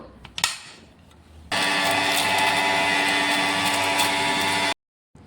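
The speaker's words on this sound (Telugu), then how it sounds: "ఇప్పుడు దీన్ని అయితే కొంచెం బరుకుగా పట్టాలండి మిక్సీ" An electric mixer grinder coarsely grinds fried spices, a few rattling taps and clicks before the motor kicks in with a loud, steady whirring roar for about three seconds, then cuts off abruptly.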